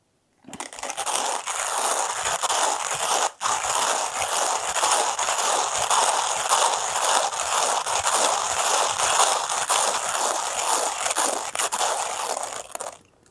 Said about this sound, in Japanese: 14g 浅入りの豆を引きます。